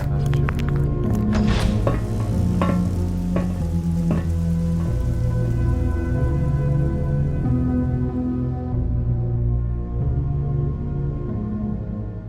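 A rain sound effect for a city scene in a tabletop role-playing game gives a dense, steady patter and sizzle of rainfall on hard surfaces, continuous and fairly loud, fading slightly toward the end with no voices over it.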